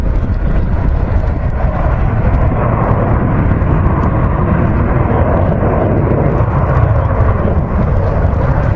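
An Avro Vulcan bomber at the Waddington Airshow gives a loud, steady, deep rumbling roar that fills the whole stretch with no gaps and no talk.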